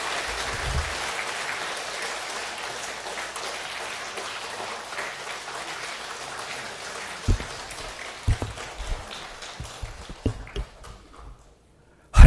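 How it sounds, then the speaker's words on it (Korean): A congregation claps in welcome during a church's 70th anniversary thanksgiving service, steady applause that thins out into scattered final claps and handling bumps before falling quiet, then a sharp thump at the very end. "우리 큰 박수로 환영해 주시기 바랍니다."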